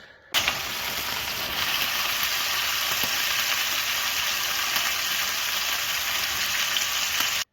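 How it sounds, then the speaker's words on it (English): Five lamb chops frying in an All-Clad D3 stainless fry pan, a steady, moderate sizzle that starts abruptly as the meat goes in and hisses evenly throughout, with no talking. "They go in the pan. Again, listen to the sound, not as intense as I would like to hear."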